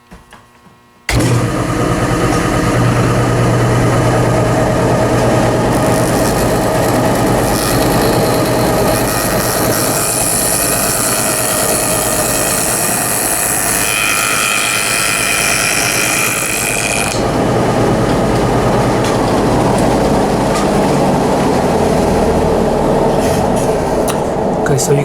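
A table saw cuts grooves using a miter gauge, a steady loud motor whine running through most of the clip with a harsher band mid-way as the blade bites the wood.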